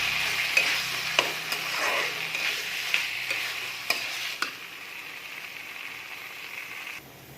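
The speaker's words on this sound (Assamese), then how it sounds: "এই আলুখিনি দি অকণমান ভাজি ল'ব।" Potatoes fry in a hot pan for a fish curry, a steady sizzle broken by several sharp scrapes and knocks of a spoon stirring, the hiss easing slightly before stopping near the end.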